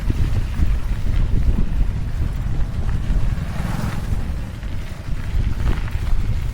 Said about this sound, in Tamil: வண்டியோட பீட் உங்களுக்கு கேட்குதா இல்லையான்னு பாருங்கள்.